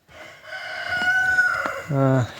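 A rooster crows nearby, one long rising and falling call, followed by a few short clucks at the end.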